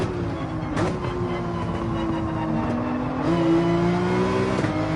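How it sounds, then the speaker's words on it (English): Race cars in Gran Turismo 7 are pushed hard, with a loud, sustained engine drone that rises in pitch and a few sharp tire screeches, and no one speaking. "Pushing both cars to the limits, full tires screaming."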